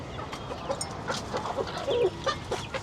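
Chickens cluck and squawk up close while being fed pieces of bread, with a scatter of short, irregular calls over a quiet background.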